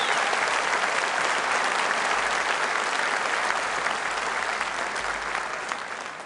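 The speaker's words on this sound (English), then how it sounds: "Give Richard Tice a round of applause." A large crowd at a political rally in Birmingham bursts into sustained applause, dense and loud throughout, easing slightly at the end with no voices over it.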